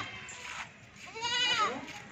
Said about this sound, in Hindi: नंबर 3 ये बकरी आ रही है माशाल्लाह